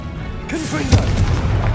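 A single deep explosive boom from the Confringo fire spell in the game Hogwarts Legacy, bursting out loud and close amid clashing combat effects, with a voice shouting over it.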